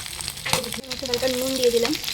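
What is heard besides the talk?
frying dried fish (shutki) in a pan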